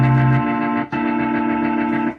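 A Viscount Legend One organ plays sustained chords with its milder type A chorus setting, giving a rich held tone that shifts chord once midway and then releases, with no talking.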